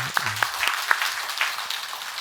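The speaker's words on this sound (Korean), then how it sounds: "박수하겠습니다." A church congregation applauds during a Sunday morning worship service. Steady clapping from many hands fills the room, with a few sharper claps standing out near the start.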